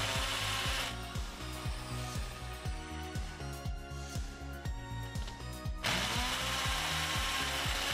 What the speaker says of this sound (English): I need to first drill a pilot hole with a masonry drill bit